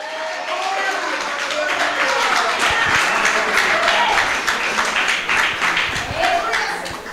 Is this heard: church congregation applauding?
yes